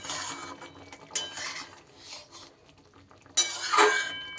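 A spoon stirs orange pickle chutney in a pan, making soft scraping and clinking strokes close up. A sharper, louder scrape comes near the end.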